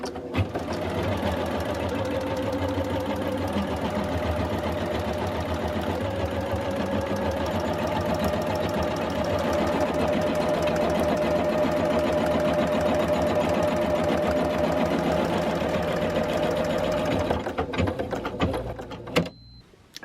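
An embroidery machine stitches a simple design, running steadily with a rapid mechanical whirr and rhythmic needle chatter up close for about seventeen seconds before it stops and falls quiet.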